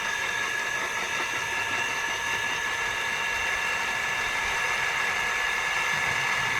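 A water pump engine drones steadily and loudly without pause, a constant mechanical hum with a high whine layered over the noisy rumble.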